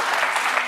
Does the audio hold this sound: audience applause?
yes